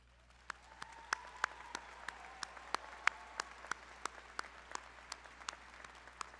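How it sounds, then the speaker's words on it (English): Scattered, distinct hand claps from a commencement audience at the LSU E. J. Ourso College of Business, spring 2024, faint and separate, in a loose, steady rhythm rather than a full ovation. "Can the faculty here today please stand so that we may applaud you"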